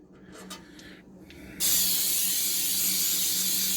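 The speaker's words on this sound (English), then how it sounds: "I have some spray coconut oil, and we're going to spray this pan." After some faint rustling, a close aerosol can of coconut oil cooking spray hisses steadily and loudly onto a cake pan for about two seconds.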